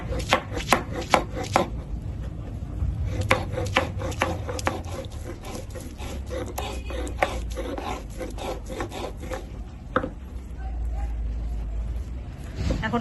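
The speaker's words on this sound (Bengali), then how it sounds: "নিয়েছি 1 ইঞ্চির মতো আদা আর 2টো কাঁচা লঙ্কা, এখন বেটে নেব।" Ginger and two green chillies ground into paste by hand, repeated scraping and rubbing strokes in a steady rhythm, close and fairly loud, with brief sharp knocks at the start.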